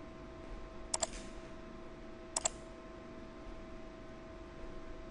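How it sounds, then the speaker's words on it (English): A computer mouse clicks through options in automotive repair-estimate software. Two quick double clicks land about a second and a half apart, close and crisp over a low steady hum, with no talk. "clicking on the options"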